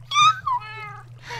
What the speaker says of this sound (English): And the cats are here.